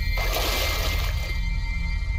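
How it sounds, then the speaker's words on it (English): Water runs into a bathtub in the Layers of Fear game, a loud, steady rushing splash with gurgling that continues for the whole short stretch, alone and close. "Okay, turn off the water."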